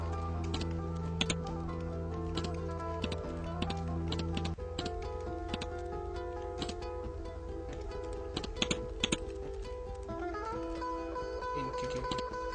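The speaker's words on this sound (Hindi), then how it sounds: "एम्प्लॉय डेटाबेस में एम्प्लॉय के नाम हम टाइप कर लेते हैं।" Names are typed on a computer keyboard in quick, uneven bursts of clicking keys over a low steady hum, with short pauses between runs.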